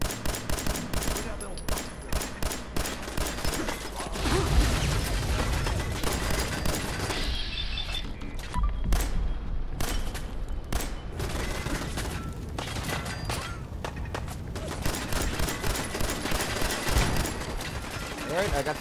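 Rapid bursts of automatic gunfire aimed at a turret in the video game Fallout, loud and sustained in dense volleys with brief lulls, mixed with game effects and a voice talking over parts of it.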